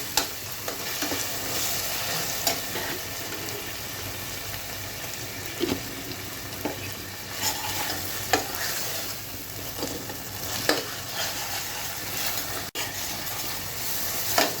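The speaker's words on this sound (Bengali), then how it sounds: "মশলাগুলো কিন্তু মোটামুটি ভাজা হয়ে গিয়েছে" Spices sizzle steadily in a hot pan as the base for a chicken curry, with intermittent scraping and stirring knocks of a spoon against the pan, close and continuous.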